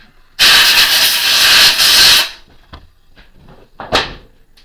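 A loud blast of compressed air hisses into a YCL 1340 lathe spindle for about two seconds, followed by a few faint clicks and a short second puff of air.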